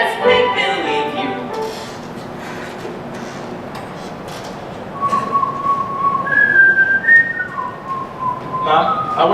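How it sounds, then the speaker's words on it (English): A person whistles a tune on a stage during a school musical, with clear melodic whistled notes in the middle and end over room noise and faint voices. "Was I whistling?"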